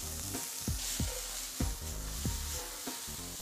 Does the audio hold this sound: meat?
yes